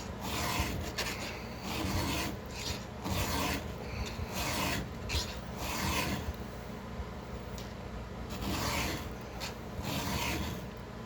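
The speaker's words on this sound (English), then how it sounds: "I've done like 8 chains with this file already too, and it's still cutting pretty good." A hand file rasps across a chainsaw chain in repeated close strokes, a steady gritty scraping rhythm with short pauses between passes, no talking.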